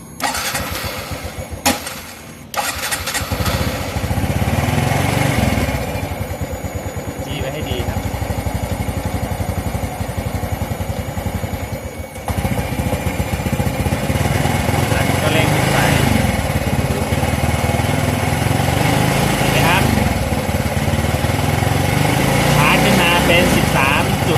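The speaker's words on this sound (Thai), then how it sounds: "สตาร์ทเครื่องยนต์ เดี๋ยวมันติด แล้วปีชาวิก็เร่งอย่าให้มันดับนะครับ" A car engine cranks briefly and catches, then runs loud and steady with the throttle held up to keep it from stalling, a near continuous drone across most of the stretch with slight shifts in pitch.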